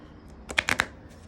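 A quick riffle of oracle cards: a few sharp papery bursts close together, then quiet.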